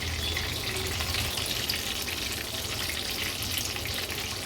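Prawns koliwada deep frying in hot oil, a dense, steady, crackling bubble that stays loud and close for the whole stretch, with no one talking over it.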